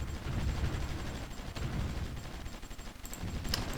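Artillery fire in the Supreme Ruler Ultimate video game: a steady low rumble of distant, overlapping booms and gunfire, with a few sharper reports near the end and no talking.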